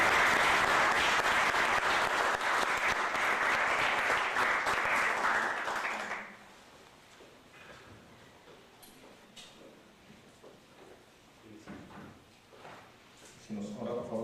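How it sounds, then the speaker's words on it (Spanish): Welcoming applause from an auditorium audience at a law faculty book presentation, loud and dense for about six seconds, then dropping abruptly to scattered room noise and faint voices. "pido también un fuerte aplauso de bienvenida"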